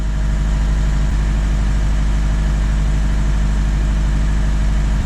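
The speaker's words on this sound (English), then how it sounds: "See, now the engine's warming up" A DAF LF truck's diesel engine idles steadily while warming up, a constant low rumble with an even, unbroken drone throughout and no voices.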